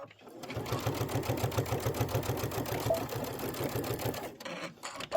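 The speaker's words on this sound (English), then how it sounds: "And you can lock that stitch too." A sewing machine fitted with a walking foot runs a quick burst of rapid, even needle strokes to lock a stitch on a quilt project, loud and close, then stops abruptly.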